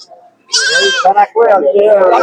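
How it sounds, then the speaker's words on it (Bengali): Goats bleating at a weekly goat market in Bhaluka, Mymensingh, several loud, close calls following one another, with people talking over them. "এই যে পাঁচশো খাসি আছে ছাগল রয়েছে"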